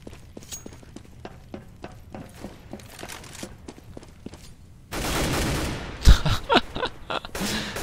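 Rapid bursts of Counter-Strike gunfire on the map de_mill crack repeatedly, first as scattered shots, then a louder burst of automatic fire with a sharp blast over a steady background rumble.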